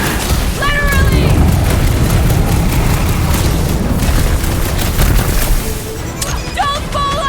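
Fiery attack explosions in Guardians of the Galaxy during a boss fight, heavy booming roar and rumbling blasts throughout, loud and close, with voices shouting over the din.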